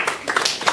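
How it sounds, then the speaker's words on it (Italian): An audience at a conference in Riva del Garda bursts into a short round of applause, a quick flurry of overlapping hand claps heard up close. "mi fate un applauso anche se non me lo merito ancora"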